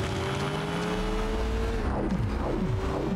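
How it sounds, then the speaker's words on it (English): Supercar engine in the video game Sleeping Dogs, a steady loud drone with rising revs and several quick gear shifts as it drives, no talk over it. "So this is a supercar."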